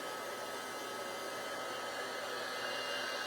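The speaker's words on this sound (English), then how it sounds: "So I've got our heat gun." Heat gun blowing steadily onto a craft card, a constant loud whooshing roar without a break from start to finish; no talking.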